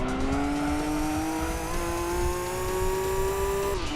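A race car engine in Gran Turismo 2 on the Laguna Seca circuit drones steadily at high revs, pitch creeping slowly upward before dropping sharply near the end, loud and continuous with no talk over it.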